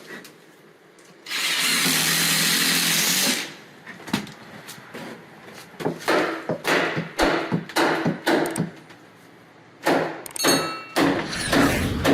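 A power drill driving screws into a support under a bathroom cabinet: one sustained whirring run of about two seconds, then a series of short, loud bursts and thumps as screws are driven home, close by.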